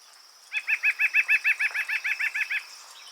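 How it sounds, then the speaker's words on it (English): A nuthatch gives a rapid run of about thirteen nasal, laugh-like notes in an even rhythm, clear and close, with a faint high background hiss and no other sound. "Their call is often described as sounding like a laugh or a giggle."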